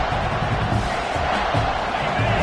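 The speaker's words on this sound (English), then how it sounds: "the crowd coming to life here trying to help this defense down in the red zone" Stadium crowd noise rising at a football game while the defense is down in the red zone, a steady dense roar of many voices under the broadcast.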